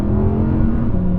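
Rear-wheel-drive Audi R8 engine held on the throttle, a steady, loud, close mechanical drone that carries through the whole short stretch without pause.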